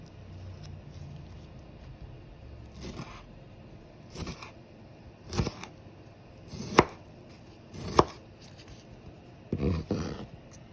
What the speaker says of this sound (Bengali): টমেটো কেটে নিচ্ছি।